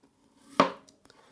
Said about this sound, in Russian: Картошку режем произвольно.